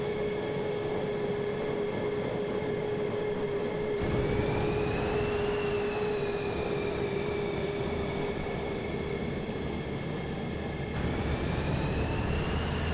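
An F-15 jet engine spooling up on startup, a steady loud roar with a rising whine that holds throughout, close and continuous with no talk over it.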